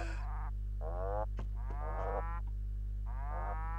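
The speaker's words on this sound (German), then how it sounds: "Mu macht er, der macht Mu" Black-and-white cow villager in the Animal Crossing video game lowing in a series of four stylized moos, each a short harmonic call separated by pauses, over a quiet steady game background hum.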